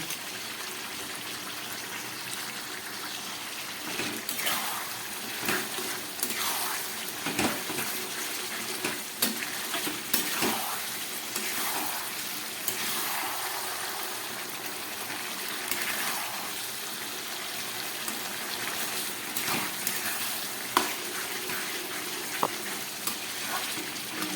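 Mutton curry frying in ghee with green chillies, a steady broadband sizzle with intermittent stirring scrapes throughout, close and moderately loud, no voices.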